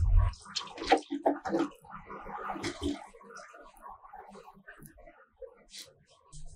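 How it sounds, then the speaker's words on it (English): Tap water runs steadily while a cake comb for butter icing is rinsed and wetted, with splashing and clattering bursts that start loud and thin out to softer trickles. "I want to go and apply water, wash it so that we'll have little water on it"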